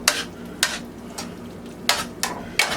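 A utensil scrapes the bottom of a cooking pan holding pork chops in sauce with fresh chopped tarragon, several short, bright scraping strokes at an uneven rhythm, close and fairly quiet.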